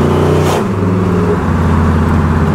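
A 1979 Pontiac Trans Am accelerating, a loud close engine roar with rising rumbling tones and a brief shift-like break before the pitch climbs again.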